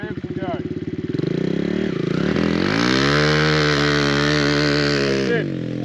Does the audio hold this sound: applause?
no